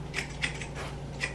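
Several quick, crisp snipping clicks of thinning scissors cutting hair, close and distinct, in an uneven rhythm with no talking.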